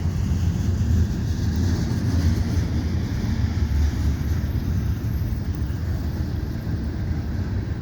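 A CN freight train rumbles past on the far track at a Lachine Canal bridge approach in winter, a steady, loud, low continuous roar with no pauses.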